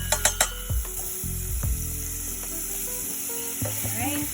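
Garlic and ginger hit hot oil with already bloomed spices in a one-pot Moroccan chickpea stew, giving a steady close sizzle broken by a few sharp clicks and utensil scrapes.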